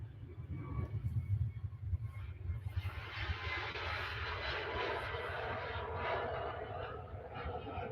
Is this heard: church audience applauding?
no